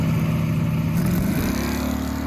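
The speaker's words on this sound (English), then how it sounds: "You can hear the Malibu struggling to leave the starting line" A Chevrolet Malibu drag car launches off the starting line at high density altitude, its engine roaring loud and close with a steady heavy drone that shifts pitch as it pulls away.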